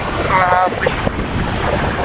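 Loud rough sea surges and churns close by, mixed with heavy wind buffeting the microphone; a voice is briefly heard beneath the noise.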